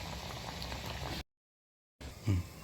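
Jackfruit seed vada batter bubbles and fries in oil over a low flame, a steady soft sizzle broken by a brief silent gap before resuming, with a small bump near the end.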